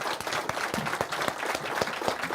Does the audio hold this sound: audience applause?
yes